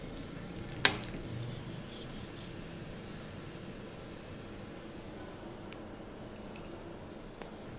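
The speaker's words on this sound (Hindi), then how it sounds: "इनको भी हल्के हल्के फ्राई कर लेते हैं, ये बहुत जल्द फूल जाती हैं।" Raisins frying gently in a pan of ghee give a soft, steady sizzle at close range, with one sharp clink of a utensil near the start and a few faint ticks later.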